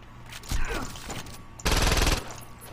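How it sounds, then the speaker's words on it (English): Shotgun blasts in the Saints Row 2 video game: two loud, booming bursts of gunfire with a quieter stretch of rattling between them. "I've switched to a shotgun"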